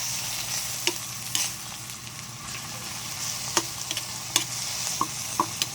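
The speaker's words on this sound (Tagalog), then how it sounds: "Caramelize lang natin itong kamatis" Tomatoes caramelizing in a hot pan give off a steady broadband sizzle, with a few sharp scrapes and clicks from a spatula stirring them at irregular intervals. No one speaks.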